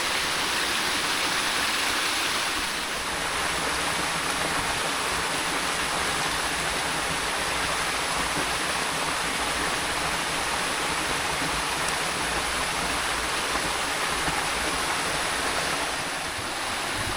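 Clear water of a small forest creek flows steadily, a broad, constant rushing wash heard up close with no talk.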